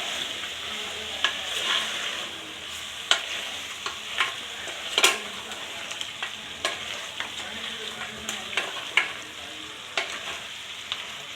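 Mutton with ginger garlic paste fries in a pan, a soft continuous sizzle broken by repeated sharp clicks and scrapes of a spoon stirring against the pan, close, with no voices.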